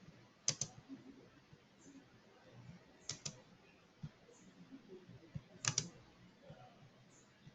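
Keys clatter on a computer keyboard during SAP FICO withholding tax data entry, a few quiet scattered clicks and taps with short pauses, close by and alone.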